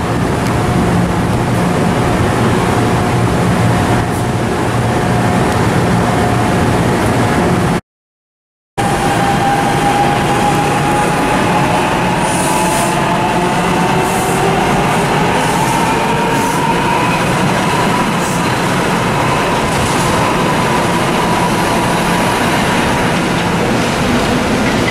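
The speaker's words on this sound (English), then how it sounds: "There goes that Arrow 3." An NJ Transit Arrow III rail car rolls steadily past at Trenton Station, a loud continuous rumble of wheels on track with a rising wheel squeal, no voices.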